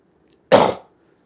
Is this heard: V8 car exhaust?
no